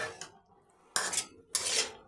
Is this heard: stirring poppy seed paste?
yes